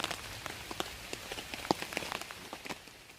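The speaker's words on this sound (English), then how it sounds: "And it's chucking it down." Heavy rain pours down on a wild camp, a dense patter of drops striking nearby surfaces with sharper individual hits scattered through it, close and steady, with no voices.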